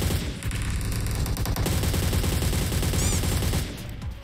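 Sustained automatic gunfire in PUBG Mobile, a dense rattling stream of shots over a low background hum, steady for most of the stretch before tapering off near the end.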